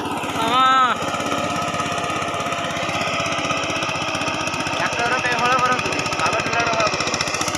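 A power tiller or tractor ploughs a farm field in the rainy season, its engine chugging steadily and fairly close throughout, with a rapid knocking pulse under a rough mechanical drone. A voice briefly speaks over it near the start.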